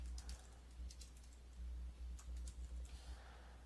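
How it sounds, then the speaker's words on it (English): Keys clack on a computer keyboard in quick irregular bursts with short pauses, close and fairly quiet, no voices. "you have to watch me painfully type all of this out"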